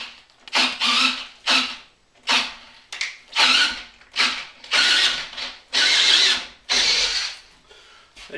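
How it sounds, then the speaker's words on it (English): A brushless 18V hammer drill bores into a 4x4 Douglas fir beam on high torque, running in about a dozen loud, close whining bursts separated by short pauses. "And I'm just going to keep drilling away and see what happens,"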